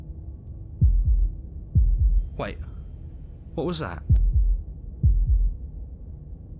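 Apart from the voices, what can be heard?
heartbeat in the video game Slay the Princess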